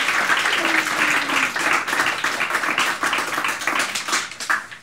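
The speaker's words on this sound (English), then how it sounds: "Get a round of applause now at this point." Studio audience applause on a Dublin variety show, a dense, fairly loud round of clapping that carries steadily for several seconds before starting to thin out.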